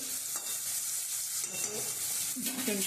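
Vegetables frying in hot oil in a pan while being stirred, a steady close sizzle with scraping stir strokes throughout.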